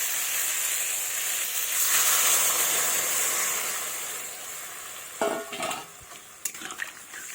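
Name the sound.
water poured into a hot pan of frying vegetables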